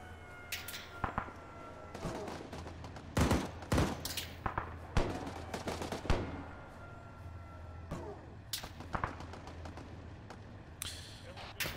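Scattered gunfire cracks in a Just Cause IV military operation game, with single shots and short bursts at varying distances, while voices talk over the action.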